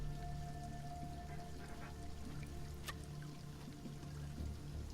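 Steady rain in the survival game Sheltered, a soft continuous patter and trickle held low in the background for the whole stretch, with faint tonal game hums and no voices.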